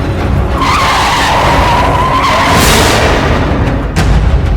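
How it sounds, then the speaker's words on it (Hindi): A car skids to a stop with a long, loud tyre screech over engine roar, building to a peak before cutting off, with no voices. "गाड़ी रोक दी, क्योंकि रियर व्यू मिरर में एल्बर्ट खुद को देख पा रहा था"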